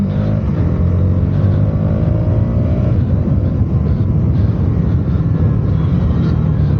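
A KTM Duke 200 motorcycle engine heard while riding, a loud, continuous drone with a slightly rising pitch early on and steady wind rush throughout, with no talking.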